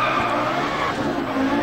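Rally car in the Dirt Rally video game skidding on a loose surface as its rear end slides out, a continuous loud scrub of tires with engine drone underneath, steady and close for the whole stretch.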